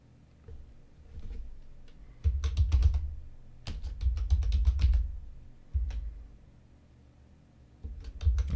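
Computer keyboard typing in bursts of rapid clicking keystrokes, entering text in a graphics program, with short pauses between flurries; close and moderately loud, no voices.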